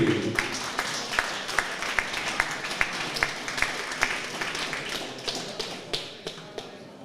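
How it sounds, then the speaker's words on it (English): Applause at a junior boxing championship as a silver medalist is honored. A small crowd claps in a quick, scattered rhythm that thins out over about seven seconds, fairly quiet and without voices. "Ladies and gentlemen, keep an applause going for silver medalist from Cowdenbeath, Trey Riley."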